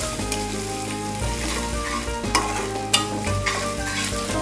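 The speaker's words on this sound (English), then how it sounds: "Then I add in the ginger. Just stir it nicely." Ginger fries in hot oil with dry red chillies and spluttering cumin and mustard seeds in a pan, a loud, close sizzle broken by stirring scrapes and occasional sharp pops.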